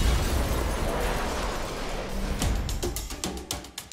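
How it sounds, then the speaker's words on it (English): A small bomb goes off in a film trailer, a broad rumbling blast that fills the first seconds before giving way to sharp crackling debris and pops near the end. "It's a very small bomb."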